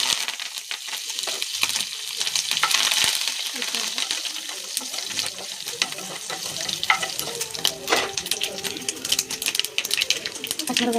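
Curry leaves, garlic, tempering seeds and dried red chillies sizzle and crackle in hot oil in a home kitchen, with spoon stirring scrapes and a person talking over the steady frying.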